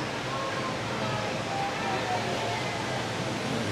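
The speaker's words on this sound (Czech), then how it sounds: "Trocha padající vody. Indoor." A steady, dense rush of falling water from a large indoor waterfall in Singapore fills the space, an unbroken roar without pauses.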